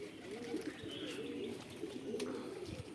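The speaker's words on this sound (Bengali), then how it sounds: "এই দেখুন ম্যাড্রাস পায়রা" Madras pigeons coo in a steady low rolling rhythm, close by, with faint chirps and bird movement around them and no talking.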